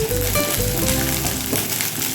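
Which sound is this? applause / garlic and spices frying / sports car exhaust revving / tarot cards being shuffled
garlic and spices frying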